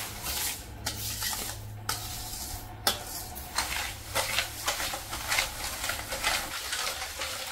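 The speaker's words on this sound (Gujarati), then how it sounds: "બસ, અને બરાબર મિક્સ કરવાનું" A lemon powder mixture is stirred in a vessel with a spoon, giving gritty scraping strokes and several sharp clinks against the side, close and fairly quiet, growing into a steady rhythmic rubbing.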